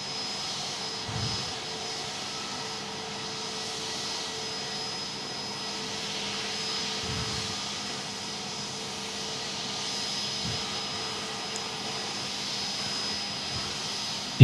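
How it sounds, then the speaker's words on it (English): Airliners taxiing in at Perth Airport, a steady, fairly faint jet engine drone and hum carried on the air, with no voices over it. "We'll just watch these guys taxi in"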